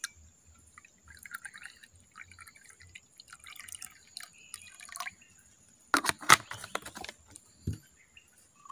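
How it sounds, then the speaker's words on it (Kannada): Water is poured into a betel leaf juice mixture, giving faint trickles and drips followed by a brief clearer splash of liquid near the end. "ನೀರನ್ನು ಹಾಕಿ ಅಲ್ವಾ."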